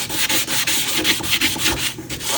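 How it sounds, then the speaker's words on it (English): Close, rapid rubbing and scratching across the edge of a resin tray, a dry abrasive rasp in quick repeated strokes. "You're just scratching the surface."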